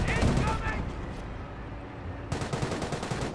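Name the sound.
creeping artillery barrage in video game Company of Heroes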